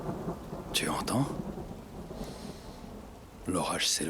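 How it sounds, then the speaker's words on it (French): A thunderstorm with steady rain and low rumbling thunder, with sweeping whooshing effects layered over it; the storm sounds constant and moderately loud without voices. "L'orage s'éloigne."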